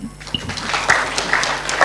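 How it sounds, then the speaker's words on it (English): Audience clapping at an annual stakeholder conference session, a short burst of scattered claps that builds into a steadier round over about two seconds, fairly close and moderately loud. "I thought you'd clap for him."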